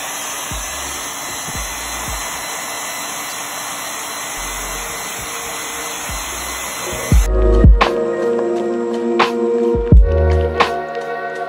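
Hair dryer drying paint inside a Dollar Tree faux ceramic vase, a loud steady whoosh that runs for about seven seconds, cuts off, then gives way to a few clunks and handling knocks.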